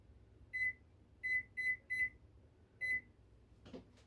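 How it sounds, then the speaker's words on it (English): A kitchen timer gives five short, clear electronic beeps in uneven groups as it is set while a cake bakes, followed by a brief clatter at the end. "I'm gonna set my timer."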